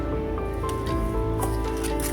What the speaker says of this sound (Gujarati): ત્યારબાદ આ બધા મિશ્રણને મિક્સ કરી લેશું.